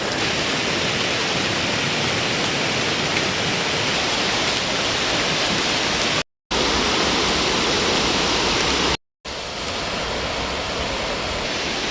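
Taytay Falls waterfall and its stream pour in a loud, constant rushing roar, close and dense, broken by two brief cuts of silence.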